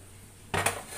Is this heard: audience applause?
no